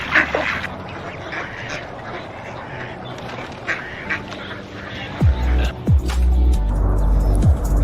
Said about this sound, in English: Now for the real reason we're here, to feed the ducks.